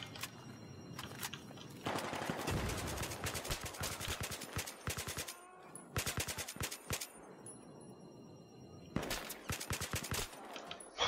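Gunfire in the video game Battlefield 3 campaign: repeated bursts of rapid automatic shots and single cracks, sounding in clusters with short lulls between them.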